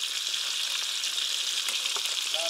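Meat sizzling in a kazan cauldron for a Tashkent-style meat and potato dish: a steady, dense crackling fry close up and loud, with a few faint clinks near the end and no talking.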